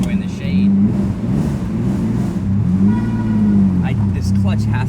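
A 750 hp twin-turbo Lamborghini Diablo engine revving up and down, a loud close rumbling drone rising and falling with a couple of swells, while people talk over it.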